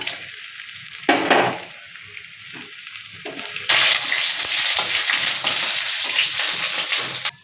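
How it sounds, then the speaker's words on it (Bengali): Garam masala frying in ghee in a pan, a quiet sizzle that swells into a loud, steady crackling hiss from the middle onward, with brief stirring scrapes early on. "কড়াতে ঘি দিয়েছি আর গরম মশলা দিয়েছি। এগুলো একটু ভেজে নেব হালকা।"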